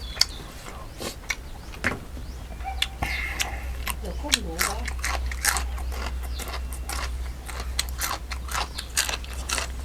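Crunchy peanuts are chewed up close, with repeated crisp bites and crackling crunches in an irregular rhythm, with a faint low hum and some voice in the background.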